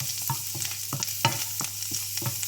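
Garlic sizzles in melted butter in a pan for garlic rice, with a quiet steady fry and repeated soft scraping and stirring clicks at a loose rhythm.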